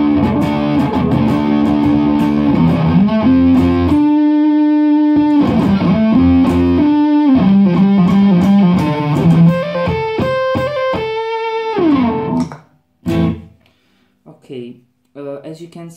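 A heavily distorted, fuzzy electric guitar through a Fuzzrite fuzz combined with a DS-2 distortion pedal plays sustained, synth-like notes and short phrases, then trails off into a few sparse plucked notes.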